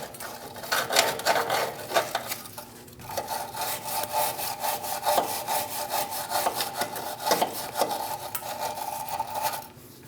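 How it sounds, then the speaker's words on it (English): A wire brush scrubs the control arm bushing seat on a 2001–2006 Chevrolet Silverado, making a close, rasping scrape in fast back-and-forth strokes that continue steadily with a short pause partway through. "Using a wire brush, I'm going to clean up where that control arm bushing sits."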